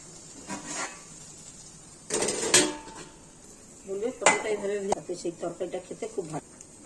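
Pointed gourd (potol) frying in a pan for a potato and soybean curry, with metal utensils clattering and scraping in sharp bursts and a quick run of rapid clinks near the end, close and loud over quiet frying.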